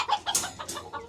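Young guinea fowl giving a quick burst of high, chirpy calls, several short peeps in rapid succession, close by and fairly soft.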